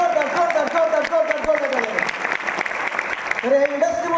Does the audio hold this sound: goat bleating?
no